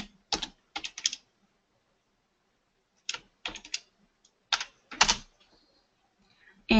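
Clusters of crisp key presses on a computer keyboard come in short bursts separated by pauses, close and clear in a quiet room, as a gene name is typed into a genome browser.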